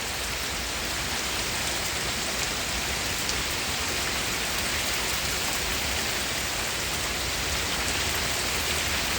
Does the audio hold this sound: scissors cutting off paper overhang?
no